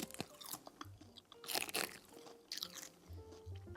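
Crisp bites into sheets of roasted gopchang dol-gim laver, several sharp crunches followed by softer chewing, close and quiet with no talking.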